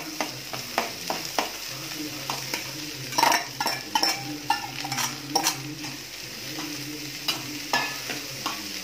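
Chayote (chow chow) pieces sauté in a pan with tamarind for chutney, making a soft continuous sizzle broken by frequent clinks and scrapes of a stirring spoon against the pan, with no talk.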